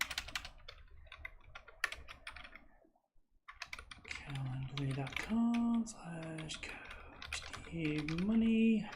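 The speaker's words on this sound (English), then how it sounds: "I'm just typing in my plugs now" Typing on a computer keyboard, rapid clicking keystrokes that run through most of the stretch, broken by a brief pause, with a person talking over the later half.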